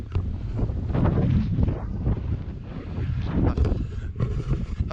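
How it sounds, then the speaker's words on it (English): Strong wind on a mountain ridge buffets the microphone in loud, gusting rumbles that rise and fall continuously, with no voices heard. "I've turned that way because it's so windy, facing into it you can't hear what I'm saying"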